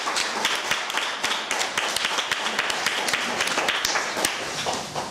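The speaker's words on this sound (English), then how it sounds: "Can we have a round of applause for" An audience claps for a speaker at the close of a mental health private practice talk, a brisk run of individual hand claps, fairly close and distinct rather than a dense roar, continuing for several seconds.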